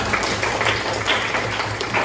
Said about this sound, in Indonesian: Tepuk tangan dulu untuk Syarani.